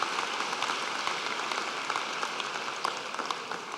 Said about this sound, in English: Give them a round of applause, wherever they are.